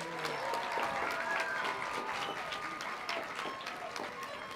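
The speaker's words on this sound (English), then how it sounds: "let's give the staff at your schools another big round of applause" An audience at a 2016 commencement ceremony applauding school staff, a sustained wash of many hands clapping with some sharper individual claps, steady for several seconds and fading slightly toward the end.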